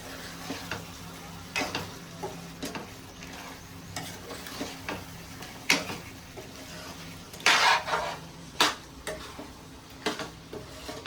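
Chicken curry masala being stirred and fried in a pan, with steady sizzling under repeated scraping and clinking of a spoon against the metal, louder bursts of stirring coming in irregular strokes.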